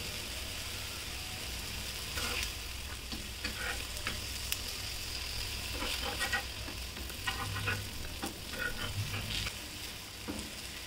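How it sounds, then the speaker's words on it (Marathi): Vegetable vadas shallow-frying in a pan, a steady low sizzle with soft crackles and occasional stirring scrapes throughout, with no one speaking. "थोडे थोडे करून वडे भाजून घ्यायचे।"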